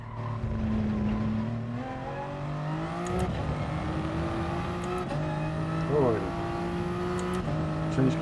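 Race car engine in GT Sport revs in rising pitches, dropping abruptly at each gear change with tire squeal in places, loud and continuous while a person talks over it.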